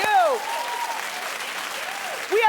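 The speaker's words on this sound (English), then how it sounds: "Keep clapping, everybody." A daytime talk show studio audience claps steadily in a dense, sustained wash of applause, with a host's voice carrying over it.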